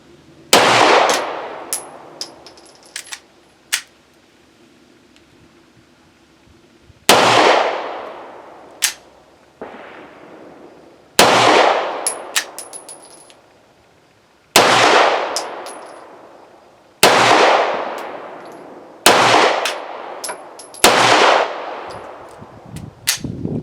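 An old Walther P38 pistol fires about eight loud, sharp shots at uneven intervals, each cracking close and then ringing out, with quieter clinks and near-silence between them.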